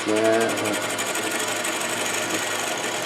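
A steady, whirring mechanical drone with a rapid buzzing texture, a drill bit spinning against box elder wood on a lathe while boring a hollow form, continuous and fairly close.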